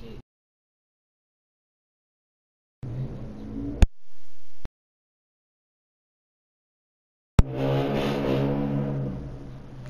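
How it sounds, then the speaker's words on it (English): A loud truck passes outside, its engine rumble cutting in abruptly in two separate stretches amid otherwise silent gaps. "Ooh, loud truck."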